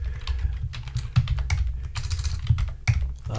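Rapid clicking keystrokes on a computer keyboard while C++ code is typed, an uneven run of close, crisp taps with a few harder key strikes standing out.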